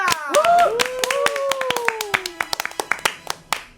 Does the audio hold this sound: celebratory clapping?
yes